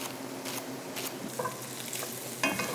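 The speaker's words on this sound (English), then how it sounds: "I am going to now get my pancetta browning a little bit." Pancetta browning in a hot pan, a steady close sizzle and crackle with a few brief stirring scrapes and utensil knocks, no voices.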